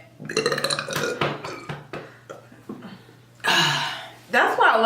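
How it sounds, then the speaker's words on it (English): Several loud, close burps during a burping challenge, one drawn-out belch and a second rough one near the end, between bursts of talking and laughter. "You know when you feel like you got a burp as it's going out?"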